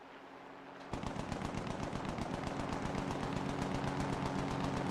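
Machine guns in a video game open up after a second of low engine hum, then hammer out a steady, rapid, loud stream of shots that continues without pause over the rumbling engine.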